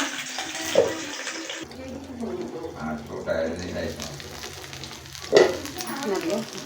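Fish frying in a pan with masala, a steady close sizzle and bubbling that swells and fades, with a person talking over it at times.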